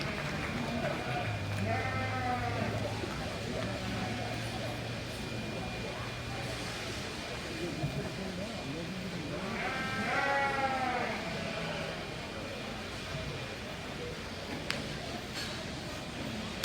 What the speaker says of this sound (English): That was a nice set of sheep.